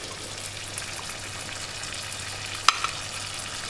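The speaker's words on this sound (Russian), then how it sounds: "Немножечко мы его поджарим. Чтобы дошел до кондиции." Chicken liver frying in a pan for an Azerbaijani cumin dish gives a soft, steady sizzle with a low hum beneath it and one brief clink near the end, without speech.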